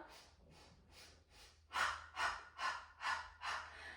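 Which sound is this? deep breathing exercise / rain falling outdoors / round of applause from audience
deep breathing exercise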